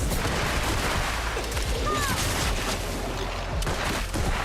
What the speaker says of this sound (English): He just blasts them with rocket launcher.